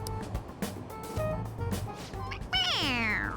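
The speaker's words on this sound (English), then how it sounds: "It meows when you press on its head." A stuffed toy cat in the Persona 5 Royal video game gives a clear synthetic meow when its head is pressed, a rising-falling cry near the end following quieter game background sounds.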